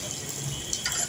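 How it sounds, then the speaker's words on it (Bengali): Lentil fritters (bora) frying in mustard oil give a short, even sizzling hiss with a faint scrape of stirring, close and fairly loud, with no voices. "দেখুন এইভাবে একটু লাল করে ভাজবেন"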